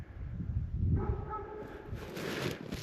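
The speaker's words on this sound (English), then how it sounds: "if you guys can hear the dog in the background" A dog barks at a house across the road on a snowy homestead, a few distant muffled barks in the middle of the clip under the crunch of snowshoe footsteps.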